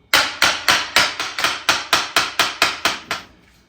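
Rapid, evenly spaced taps, about a dozen in a row, as a part of a Gator EFX tonneau cover is knocked down into place on a 2024 Ford Ranger Raptor; close, sharp and alone.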